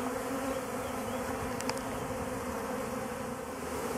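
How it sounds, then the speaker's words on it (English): Dense, steady buzzing of many honeybees fanning close by at a hive, a constant droning hum with no pauses and no talking. "bees coming out and fanning, calling the other bees in"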